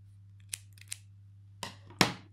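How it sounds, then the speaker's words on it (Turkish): Small scissors snip crochet yarn in a few quiet, sharp clicks, two soft ones followed by two louder closer cuts, over a low steady hum. "makasımızla kesiyorum"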